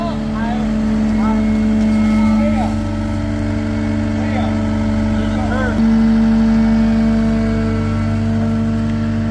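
A tractor or forklift engine runs while backing up, giving a loud, steady, droning idle with strong low hum that holds level and shifts slightly in pitch partway through.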